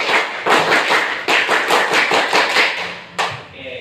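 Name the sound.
scout clap, class clapping together twice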